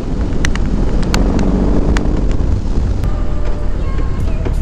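Riding a BMW R18 motorcycle on the road, a loud, constant engine roar heavily mixed with wind buffeting across the microphone, with a few sharp clicks and brief tones over the steady rush.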